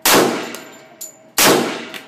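Two sharp, loud shots from a Ruger SR1911 .45 ACP pistol, spaced about a second and a half apart, each with a ringing clang and short echo, heard alone.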